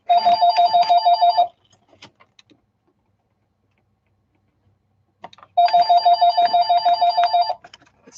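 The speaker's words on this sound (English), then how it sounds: "my dogs are going to cry because the phone was ringing" A telephone rings in two loud, close bursts of rapid trilling bell tones, separated by a few seconds of near silence with faint clicks.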